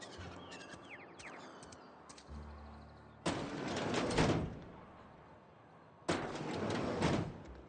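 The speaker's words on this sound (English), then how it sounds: "Shutting the door makes me feel a little bit more immersed." Doors shut in The Outer Worlds, with short metallic clicks and mechanical rattles followed by two loud whooshing slams, each swelling and cutting off sharply, with no talking.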